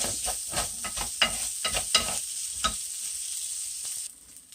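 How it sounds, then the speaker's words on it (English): An egg fries tornado-style in an oiled pan, giving a steady close sizzle with crackling pops that ends abruptly near the finish. "we're gonna put some oil in there, and then we're gonna attempt to do our tornado egg."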